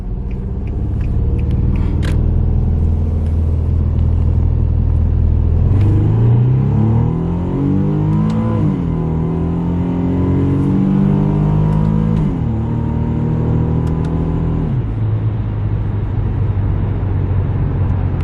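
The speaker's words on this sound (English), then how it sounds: "We're gonna do a quick little first gear pull here." A G35 car engine revs hard and climbs in pitch through first gear, rumbling loudly, then drops off as the throttle lifts.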